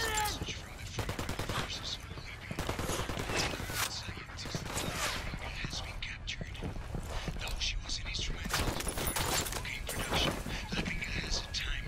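Continuous overlapping gunfire fills a Ghost Recon Wildlands firefight, with automatic bursts and sharp single shots crackling nonstop, and low voices heard intermittently beneath.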